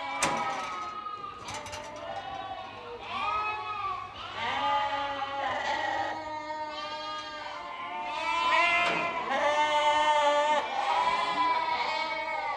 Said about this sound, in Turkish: Bunlar bir buçuk aylık kuzular.